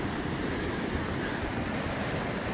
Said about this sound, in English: I don't know if you can hear it, but over there there's actually a waterfall.